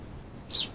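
A small bird gives a single brief high chirp from its perch on a garden hedge, heard close against a soft low outdoor background.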